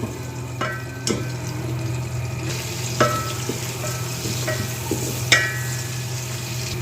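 Onions fry in oil for chana pulao, a steady close sizzle under occasional clicks and scrapes of a stirring spoon against the pot, with no voices.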